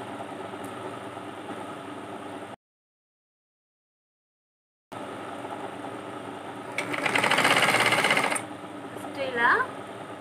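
A sewing machine stitches an invisible zip onto a dress, running in a steady loud mechanical burst for over a second amid quieter room noise and a gap of silence, with a voice talking through much of it.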